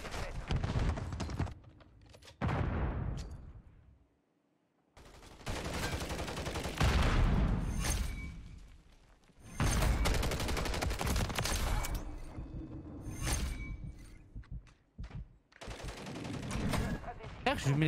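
DG-58 LSW rifle fire in Modern Warfare 3, loud rapid bursts and sustained automatic volleys with brief gaps, mixed with game effects and keyboard clatter.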